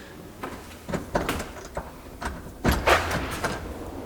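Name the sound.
door being opened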